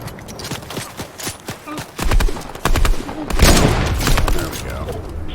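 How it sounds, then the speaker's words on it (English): Video game gunfire crackles in rapid volleys and sharp single shots, growing denser and louder toward the middle, with a voice speaking faintly in the background. "Getting shot at."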